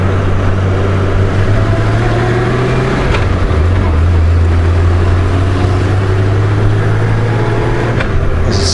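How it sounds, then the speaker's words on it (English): A 2018 Honda Goldwing motorcycle cruising on a road in southern France, its steady engine drone loud and continuous, with a clear dip and change in engine note around three seconds as a gear shifts smoothly. "There's a smooth gearbox. Just slicks in like it's on a quick shifter."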